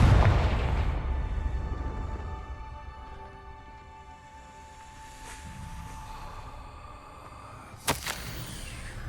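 A Confringo fire spell blasts in Hogwarts Legacy, opening with a loud booming impact that decays into a long fiery hiss and hum, followed by a sharp crack and whoosh near the end.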